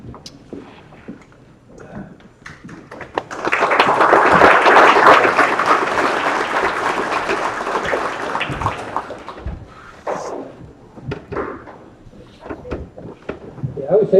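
Audience applause at a county meeting general session, a broad sustained clapping that swells in and lasts several seconds before fading back to a talking voice.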